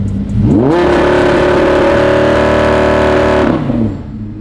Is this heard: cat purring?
no